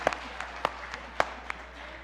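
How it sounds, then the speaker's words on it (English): A small church congregation gives sparse, scattered applause: a handful of distinct claps at irregular moments over a quiet room, faint and brief. "give yourselves a round of applause"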